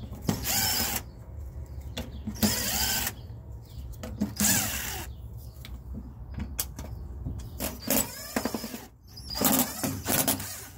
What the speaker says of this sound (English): if you find a drill, that's this one, the DeWalt with the NiCad 18-volt batteries